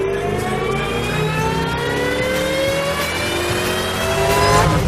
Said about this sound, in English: to get that whine you get from the supercharger